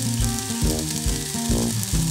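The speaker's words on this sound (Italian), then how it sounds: "Sentite questo scricchiolio di fondo, questo ecco, questo è il riso che sta tostando." Rice toasting in a pot for pumpkin and gorgonzola risotto, a dense crackling sizzle with rhythmic scraping stirs repeating every half second or so, close and loud with no talk.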